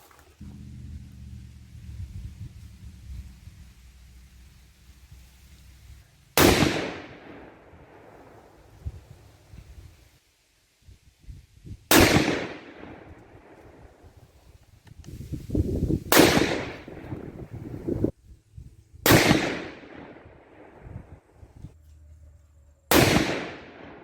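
Five sharp, loud 6.5 Creedmoor rifle shots firing 123-grain Lapua OTM Scenar rounds loaded with H4350 powder, each a sudden crack with a decaying rumble, spaced several seconds apart outdoors at close range.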